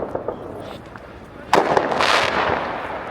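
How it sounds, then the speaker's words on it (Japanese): New Year's Eve fireworks crack and burst outdoors on a street in Oslo, Norway, first scattered small pops, then a loud bang followed by a crackling roar, with voices nearby. "12時を待ちきれないのかちらほら花火が鳴り始めてますね"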